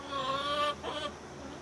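Black Australorp hens cluck with drawn-out, wavering calls at close range, a second call following the first, over steady outdoor background noise.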